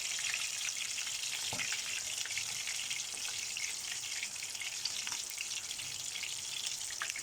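Tilapia fish frying in a pan, a steady dense crackle and sizzle of hot oil with scattered sharper pops, close and continuous throughout.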